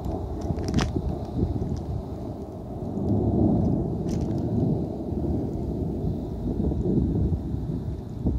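Thunder during an Arizona monsoon storm, a deep sustained rumble that swells and rolls on under steady rain and gusting wind, with a couple of sharp crackles early on and no talking.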